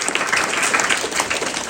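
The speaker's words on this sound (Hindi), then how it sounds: "तो जोरदार तालियां उनके लिए बनती हैं" Sustained audience applause at a Brahma Kumaris-style spiritual gathering, a dense steady wash of many hands clapping throughout, fairly loud and close, with no voices over it.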